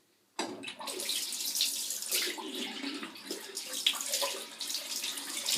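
Tap water runs steadily into a bathroom sink after a short silent start, a continuous close hiss and splash that keeps going while the water warms up for a wet shave.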